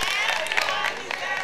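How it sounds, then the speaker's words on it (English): A dating-show studio audience applauds in a brief, close burst of clapping and cheering at an even level. "Come on, another round of applause for them."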